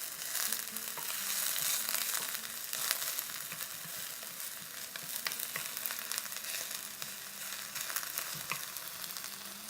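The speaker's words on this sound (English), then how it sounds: "I'm going to add my chopped onions. And I'm going to cook these until they're translucent." Chopped onions fry in hot oil for Moroccan tagine meatballs, a steady close crackling sizzle with dense popping and no voices.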